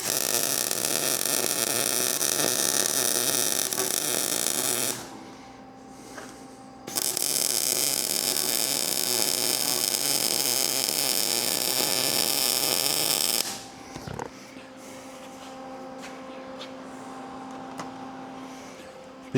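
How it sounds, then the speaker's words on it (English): A welder works a seam on thin metal for a DIY cultipacker, giving a loud, steady crackling buzz that stops briefly, resumes for several seconds, then cuts out, leaving a faint hum. "so we're gonna weld this side too."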